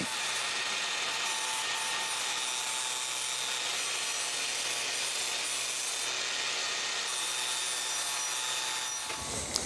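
A flap disc grinder scours rust off the metal frame of an old electric quad, a close, steady, harsh abrasive whir that holds for about nine seconds before cutting off, with no talking.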